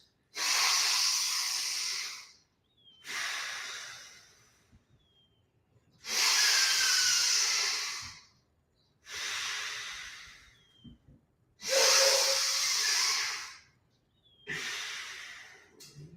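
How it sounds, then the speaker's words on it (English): Slow, deep breaths drawn and released through a single nostril with the other blocked, about six long airy strokes in a steady rhythm with short pauses between, close and fairly quiet, no talking. "block that one nostril. And begin now, 10 deep breaths."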